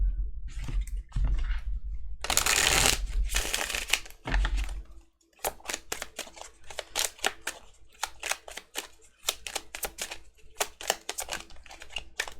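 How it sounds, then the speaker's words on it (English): A burst of rapid riffling of tarot cards is followed by a long series of sharp, evenly spaced card snaps and taps, close and fairly quiet. "If I can shuffle."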